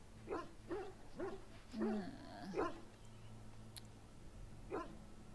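Several dog barks in Dragon Age: Origins, spaced in an uneven rhythm over a low background hum, fairly close and moderate in level, with a short gap before a final bark.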